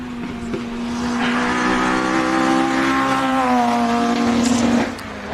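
Birkin 1600 competition car engine climbing a hill-climb course during qualifying, rising from a steady drone into a loud, sustained rev with a rising pitch, tailing off at the end.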